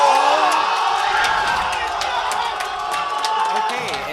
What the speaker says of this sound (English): The entire crowd going nuts for this.